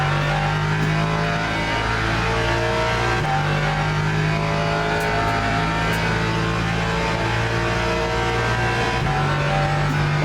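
A race car in the LMU racing video game drones continuously, its engine note holding steady and shifting pitch in stepped changes as it accelerates, loud and close with no voices.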